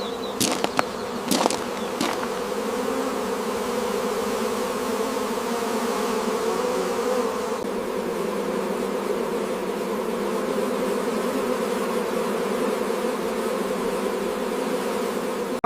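Honey bees swarming around hives on a large honey farm, a dense steady buzzing drone close to the listener, with a few sharp knocks at the start.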